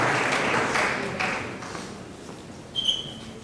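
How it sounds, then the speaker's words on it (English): A crowd gives a round of applause for a high school baseball team at a media day, a short burst of clapping that fades quickly, followed by a faint high ping. "give one a round of applause for the 2026 baseball team"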